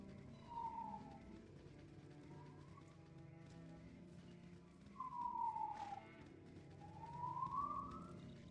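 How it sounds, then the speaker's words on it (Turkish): Siren wailing in a fishing village in the Baldur's Gate Enhanced Edition video game, faint rising and falling tones repeating in slow sweeps against a quiet background. "Nasıl siren çalıyor belli değil ya."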